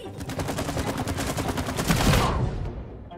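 Gunfire in the video game It Takes Two, a steady rapid stream of close automatic shots for about three seconds before it cuts off.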